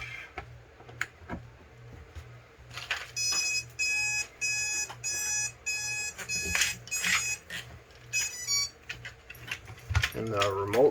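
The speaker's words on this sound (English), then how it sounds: "Plug this guy in, then you'll hear it beep." An underwater thruster controller on a 12-volt battery emits bursts of bright, repeated electronic beeps as the battery is plugged in, mixed with handling clicks and soft voices nearby.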